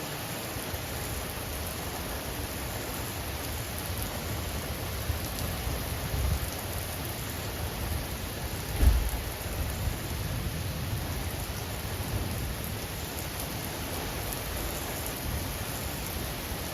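Severe thunderstorm with strong winds: steady dense rain hiss and wind roar throughout, with a low thump of distant thunder or gust around the middle, no voices.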